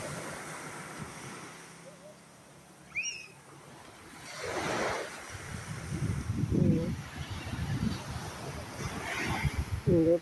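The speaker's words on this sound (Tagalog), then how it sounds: "Dagat sa Hindayan." Sea waves wash ashore at Hinudayan, Leyte, with broad surging swells rising and falling every couple of seconds, buffeted by wind noise on the microphone and a brief bird call early on.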